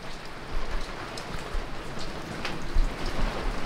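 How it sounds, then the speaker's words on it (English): Steady rain patters on a new canvas cover over a boat anchored in a bay during a Canadian winter, a dense even hiss with scattered heavier drops and occasional louder taps, no voices. "See how much rain there is coming down on our new canvas."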